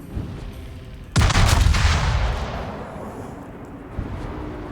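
Heavy battleship main guns fire in a naval combat video game, a single loud booming blast with a long rumbling decay that fades over several seconds, followed by a faint thud.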